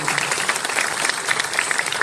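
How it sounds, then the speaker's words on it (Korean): Audience applause at an outdoor evening history concert at Namhansanseong fortress, a dense, steady clapping from a sizable crowd lasting about two seconds at even loudness. "박수 부탁드리겠습니다."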